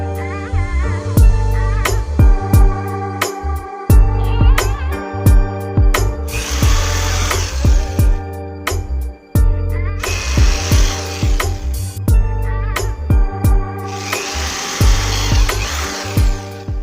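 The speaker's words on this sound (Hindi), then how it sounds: "तो ये चारों छेद हमने 5 mm की बिट से किए हैं।" A power drill with a 5 mm bit bores holes while a homemade room heater is built. It runs in loud, sustained whines broken by short pauses, with three longer rough drilling bursts, close up and with no talking.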